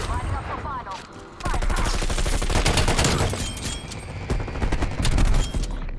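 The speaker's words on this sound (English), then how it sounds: "who am I getting shot by?" Rapid automatic gunfire in the video game Call of Duty Cold War, loud dense bursts of shots starting after a quieter moment and continuing nearly nonstop, with a voice speaking briefly over it.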